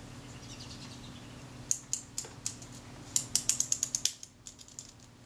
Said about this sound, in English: Now I've got to make sure I get the shutter speed dial engaged correctly.